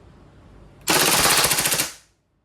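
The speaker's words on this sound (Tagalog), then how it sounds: "WEM4RIS full metal gas blowback rifle by WE" A WE M4 RIS full-metal gas blowback airsoft rifle on full automatic lets off a single sustained burst of rapid, evenly spaced shots lasting about a second, loud and close, with no talking.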